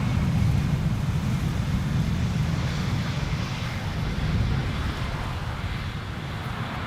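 Strong crosswind gusting across Amsterdam Schiphol Airport, a steady loud rushing roar with heavy low rumble buffeting the microphone throughout, likely mixed with distant aircraft engine noise during a crosswind landing.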